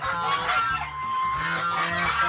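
Several grey geese and goslings honk, squawk and peep close by on a farm, overlapping calls in a continuous noisy chorus with the goslings' higher peeping mixed in.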